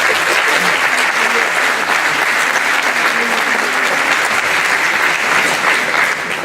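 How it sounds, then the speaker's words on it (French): Sustained applause from a large audience at a town's 2018 New Year address, honouring local volunteers. Dense, loud and steady clapping fills the whole stretch, with no voices over it. "Bravo ces bénévoles, je crois qu'on peut les applaudir."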